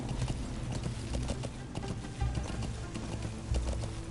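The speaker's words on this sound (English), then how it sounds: "Let's get on the horse." Horse hooves in the video game Metal Gear Solid V clip-clop in a fast, steady galloping rhythm, continuous and fairly close, with no voices.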